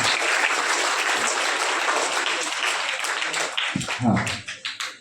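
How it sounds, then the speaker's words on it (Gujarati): Audience applause at a teacher's farewell ceremony at a Gujarati village school, steady dense clapping that thins into scattered claps near the end, with some voices mixed in. "આપણે સૌ તાળીઓના કરી"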